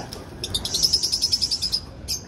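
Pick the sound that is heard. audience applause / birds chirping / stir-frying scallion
birds chirping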